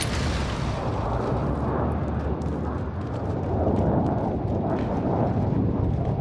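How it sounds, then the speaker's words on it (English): Heavy precision airstrike explosions rumble in a continuous, dense roar in Call of Duty: Modern Warfare, a loud sustained barrage with deep booms and crackling debris across the whole stretch. "Precision airstrike."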